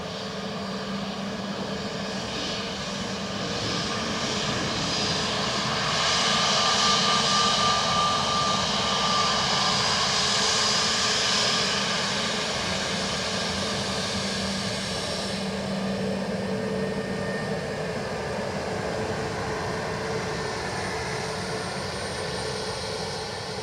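Ryanair Boeing 737 Max 8 landing at Dublin Airport, a long continuous jet engine roar at a moderate distance that swells and stays steady throughout.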